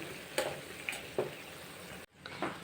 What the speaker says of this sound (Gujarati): તો હવે આપણે આ બધું નાખી દઈશું અને સરસ હલાવી લેશું